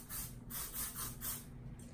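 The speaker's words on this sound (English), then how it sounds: "I take the Chi helmet head spritz and I just spray back here." Chi Helmet Head hair spritz is sprayed in a few short, hissy bursts of an aerosol, close and moderately loud, with no voices.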